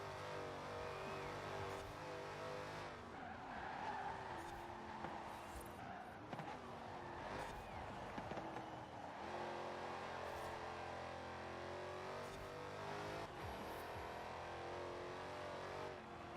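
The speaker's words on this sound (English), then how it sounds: "Whipple supercharger sucking in that air and turning it into boost." Supercharged race car engine with a Whipple supercharger, droning steadily at high revs with a sustained whine and shifting pitch, fairly faint and continuous with no talk over it.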